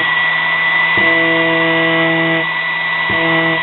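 Homemade mini grinder built from sewing machine parts whirring continuously with a high motor whine, its pitch stepping up and down twice as it runs, loud and close.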